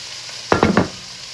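Pork sizzling in olive oil in a hot pan for a stir fry, heard as a brief burst of three quick loud hissing surges close by, with quiet room tone before and after.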